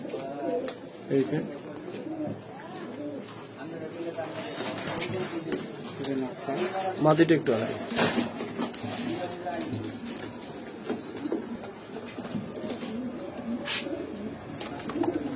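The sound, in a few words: sapchila pigeons cooing in a rack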